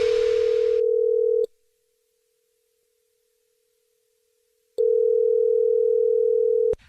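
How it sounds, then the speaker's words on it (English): A landline telephone dial tone sounds during a radio prank call segment: a steady, loud single-pitch hum that cuts off abruptly, falls silent for a few seconds, then returns just as steadily before stopping. "It's another Jubal phone prank"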